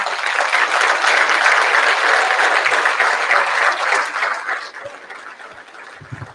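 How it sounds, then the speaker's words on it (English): A banquet audience applauds in a steady, dense wash of clapping that holds strong for several seconds, then thins and fades toward the end. "If you would all like to give them one last round of applause."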